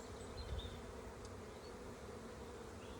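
Honeybees buzzing at an open beehive during an inspection: a dense, steady drone of many wings, continuous and fairly soft throughout, with no voices.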